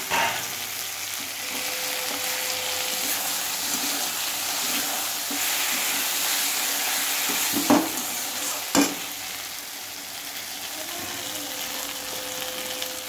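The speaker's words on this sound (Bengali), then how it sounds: "এখন দিয়ে দেবো বেগুন ও আলু ভাজবো" Eggplant and potato fry in a pan with chili powder, producing a continuous loud sizzle and spatter throughout, broken by two sharp utensil knocks partway through, with no talking.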